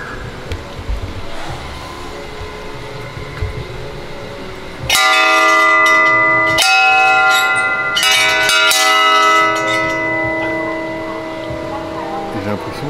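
A large bell struck at a Buddhist park in Thailand, ringing out loud and close with a long shimmering resonant tone that rings on and swells again, after quiet ambient noise with a voice faintly present.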